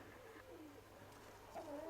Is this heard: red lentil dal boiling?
no